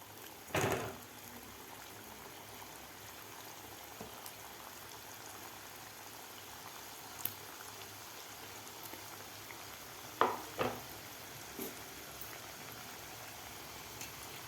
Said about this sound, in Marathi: ते व्यवस्थित आपल्याला थोडासा गोल्डन कलर होईपर्यंत आपल्याला व्यवस्थित हे तळून घ्यायचे आहेत शंकरपाळे